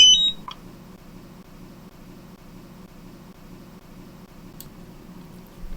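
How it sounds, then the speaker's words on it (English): A short electronic beep from a drone controller powering on chirps right at the start, followed by a low steady hum and a faint click later. "quickly press and hold the power button until you hear a beep"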